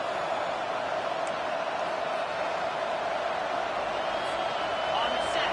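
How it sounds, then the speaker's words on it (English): Loud, steady roar of a college football stadium crowd during a Texas vs Texas A&M game, sustained noise rising slightly toward the end as the home fans try to help their defense. "It is getting loud as this crowd tries to help its defense"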